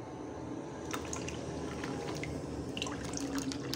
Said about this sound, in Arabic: هزوده بقى ميه عاديه خالص من الحنفيه اهي.